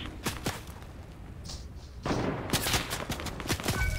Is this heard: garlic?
no